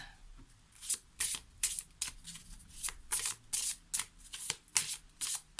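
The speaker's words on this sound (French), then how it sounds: "on va prendre une carte maintenant" Lenormand cards shuffled and drawn by hand, a string of crisp papery riffles and flicks in short regular bursts, close and clear, with no talk over them.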